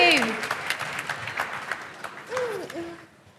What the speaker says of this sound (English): Can we have a round of applause for the three of them, please?